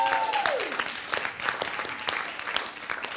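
Audience applause at a coaching event, a dense wash of clapping hands lasting throughout, with a brief tonal sweep at the start; steady and fairly close.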